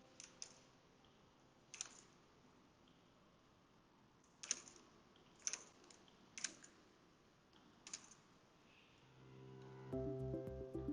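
Scattered, faint clicks of typing on a computer keyboard, single keystrokes spaced out in a quiet room, with a brief denser burst of sound at the very end.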